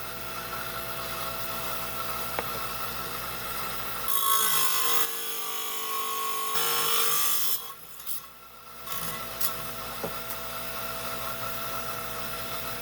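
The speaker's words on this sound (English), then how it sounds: "Okay, we're on my 5-inch high-tech trim saw. We're going to take this, I'm just going to cut this edge off here." A 5-inch trim saw cuts an edge off a piece of blue lace agate, a steady whining grind that swells louder mid-cut, drops out briefly and resumes, heard close with no talking.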